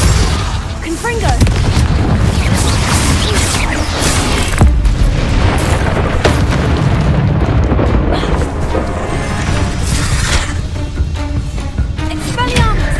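Confringo blasting-spell explosions in Hogwarts Legacy combat, a dense, continuous barrage of loud booms and bursts layered with clattering effects that never lets up, with a voice shouting spell names over the din.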